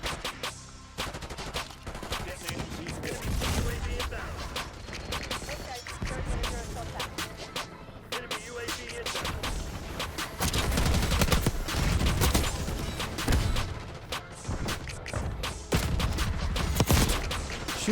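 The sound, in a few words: gunfire in the video game Black Ops 6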